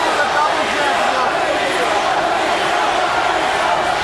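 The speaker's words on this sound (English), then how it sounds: "Crowd getting anxious. They want to see action." A restless crowd at an EFC mixed martial arts fight keeps up a dense, continuous roar of murmuring and shouting at a fairly loud level, with a commentator talking over it.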